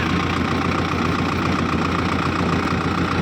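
A 60 HP tractor engine runs close by with an 8-foot rotavator hitched, a loud steady diesel rumble with a constant throbbing knock and no talk.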